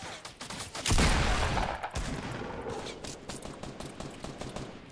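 Rapid gunfire in Fortnite squads play, a loud burst of shots near the start followed by continued dense shooting aimed at the player, with no talk over it.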